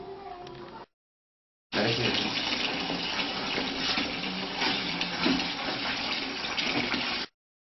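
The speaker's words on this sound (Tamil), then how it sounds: "இதனுடன் 15 லிட்டர் தண்ணீர் சேர்க்க வேண்டும்." Fifteen litres of water pour steadily into a phenyl mixture, a continuous splashing rush that is close and fairly loud for several seconds after a brief gap.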